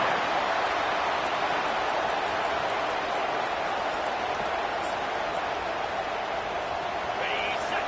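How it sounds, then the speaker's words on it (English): Stadium crowd roars steadily at a college football game in NCAA 2K25, a dense, continuous wash of cheering that holds loud and unbroken throughout. "this crowd is tearing the lid off this place"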